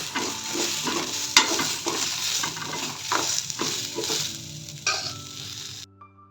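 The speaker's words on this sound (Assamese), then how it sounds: "ইয়াত মই হালধি দিছোঁ আৰু সোৱাদ অনুসৰি নিমখ এতিয়া ভালকৈ ভাজি ল'ম" Turmeric and salt frying in a pan while being stirred, a steady close sizzle with repeated scraping strokes of the stirring utensil, ending abruptly in near silence.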